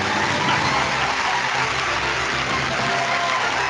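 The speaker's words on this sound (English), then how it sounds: "Please give a round of applause for the big man himself." Sustained applause from an audience for Jet, a dense, steady wash of clapping that fills the whole stretch with no clear gaps.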